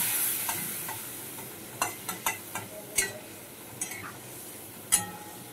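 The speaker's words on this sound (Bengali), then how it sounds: "আবার তেলটা গরম হয়ে গেছে। এবার লঙ্কাগুলো আমি দিয়ে দিলাম। দিয়ে আমি এবার হলুদ দিয়ে দিচ্ছি।" Green chilies and turmeric frying in hot oil, a steady faint sizzle broken by several sharp scraping stirs and clinks of a spatula in the pan, no talking.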